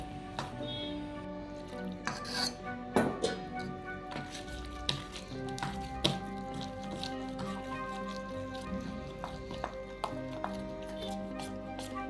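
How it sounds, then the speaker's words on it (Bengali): Spoon stirred round and round to beat pitha (malpua) batter of flour and milk in a bowl, making soft, wet squishing and clicking strokes under steady background music. "এইভাবে চামচে দিয়ে ঘুরিয়ে ঘুরিয়ে ভালো করে ফিটিয়ে নেবেন যাতে লাম্পসটা না থাকে"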